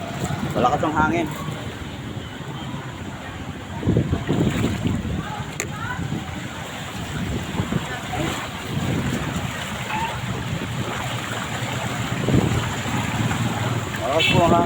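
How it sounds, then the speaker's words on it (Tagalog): Strong wind roars and buffets the microphone outdoors near a barangay hall during flooding, with a gusty, rumbling wash that swells and dips while a person talks intermittently over it. "Malakas ang hangin."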